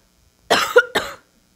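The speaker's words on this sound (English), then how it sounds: "They say when you cough, some truth wants to come out." A single person coughs twice in quick succession, close and clear, in an otherwise quiet indoor setting.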